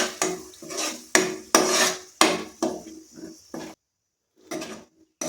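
A spoon scrapes and clanks around a cooking pot while palak paste is mixed in for palak rice. Seven or so loud, close strokes come in quick succession, then a brief silence and a couple more scrapes.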